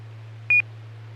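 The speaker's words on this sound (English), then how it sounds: "your smoke detector battery is getting low. We can hear it over the radio, beeping occasionally." A single short electronic chirp from a smoke detector with a low battery, heard over a radio link: one brief, clean high beep against a steady low hum and hiss.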